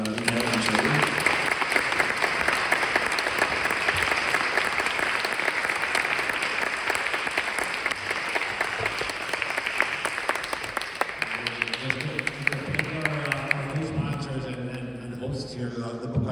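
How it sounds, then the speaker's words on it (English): Audience applause at a talk, sustained dense clapping from a crowd that fades toward the end as voices begin to talk over it. "maybe a round of applause for Mikhael and Shaul"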